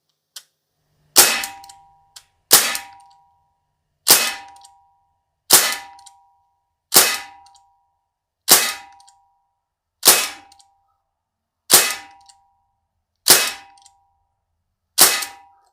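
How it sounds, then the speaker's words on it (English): Ten evenly spaced shots from a Sig Sauer ASP MPX .177 pellet rifle, each a sharp crack with a metallic ringing ping as the pellet strikes a target, loud and isolated with silence between. "Let's put 10 rounds into this target."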